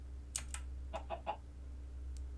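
A rooster in the TerraFirmaCraft Minecraft modpack gives a few short clucks in quick succession, soft and close over a low steady hum, with no talking.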